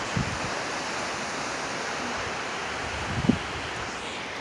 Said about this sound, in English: the ocean is literally right there